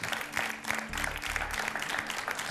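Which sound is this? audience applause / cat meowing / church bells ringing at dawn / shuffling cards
audience applause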